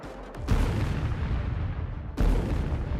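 An RPG striking a Russian armoured vehicle in the Donetsk region lands as a loud, heavy blast followed by a sustained roaring rumble, then a second sharp boom near the end.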